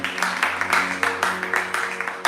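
A church congregation applauding in praise of the Lord at a French-language worship service, loud rhythmic clapping in steady bursts close up, with no talk.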